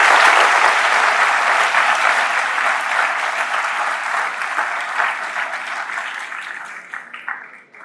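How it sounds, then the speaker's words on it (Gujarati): An audience at a live event applauds, with dense sustained clapping that gradually thins and fades toward the end, loud and close with no talk over it. "વાહ, તાળી વગાડો આ લોકોને"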